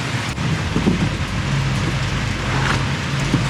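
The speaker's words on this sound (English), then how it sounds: "how much it started raining as soon as we got here" Steady, heavy rain hisses continuously, close and loud, with a low rumble underneath.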